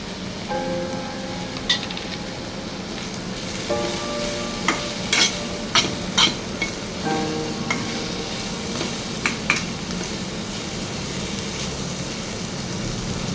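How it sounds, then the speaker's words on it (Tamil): Bitter gourd sizzling in hot oil with turmeric and salt while a spoon scrapes and clatters against the pan in irregular stirs, with faint tonal hum in the background. "இப்போ அரை தேக்கரண்டி மஞ்சத்தூள் ஒரு தேக்கரண்டி உப்பு சேர்த்து நல்லா பிரட்டி விட்ருங்க"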